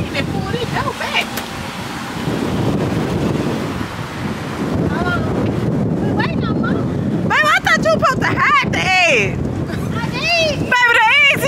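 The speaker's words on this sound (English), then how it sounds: "the wind is pulling it back" Gusty outdoor wind buffets the microphone in a steady low roar during an Easter egg hunt, running under close conversation and growing louder partway through.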